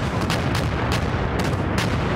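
Gunfire in the World War II shooter OstFront, a dense rumbling barrage with several sharper shot bursts standing out over steady low battle noise.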